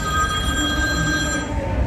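A mobile phone rings during a live radio interview at a music festival, a steady electronic tone held over a noisy background with no one speaking.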